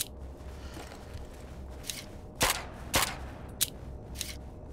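Scattered gunshots from weapons in the video game Zed Zone ring out one at a time, with two loud close reports in the middle and fainter cracks around them over a low background.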